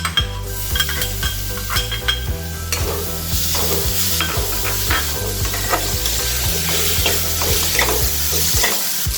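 Crushed ginger-garlic and slit green chillies frying in a pan for Kerala-style pepper chicken, a loud busy sizzle with spatula scrapes and clinks against the pan, close and continuous.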